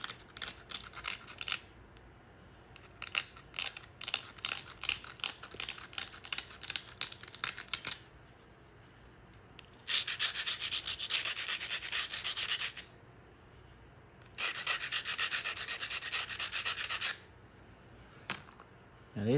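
Stone edge of a Clovis point being lightly pressure-flaked: a run of dry scratchy clicks and rasps for several seconds, then two longer stretches of steady gritty scraping, close and fairly quiet, with no talk.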